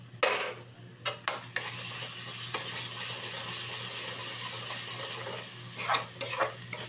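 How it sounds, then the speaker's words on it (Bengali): Spices, onion paste and ginger-garlic paste frying together in a pan for an egg curry: a steady sizzle under sharp metal spoon scrapes and clanks, a cluster at the start and again near the end, close up with no talking. "এবার ভালো করে সব মশলা, পেঁয়াজ বাটা সব একসঙ্গে ভালো করে ফ্রাই করে নিব লাল লাল করে।"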